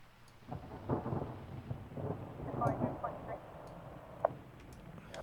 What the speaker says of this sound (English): Obviously, the thunder's going to be quite a rumbly thing going on